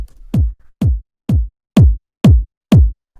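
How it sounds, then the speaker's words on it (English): Seven 909-style kick drum hits, dry with no drum bus processing, land at a steady even pulse, each a punchy low thump with a short click on top, heard alone and close. "It is a 909 kick"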